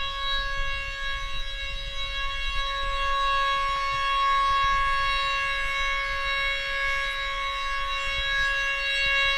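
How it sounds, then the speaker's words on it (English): A sustained synagogue siren wails continuously at a steady pitch, heard from fairly close, right outside a window, with a low rumble of background noise beneath it. "that synagogue siren went off"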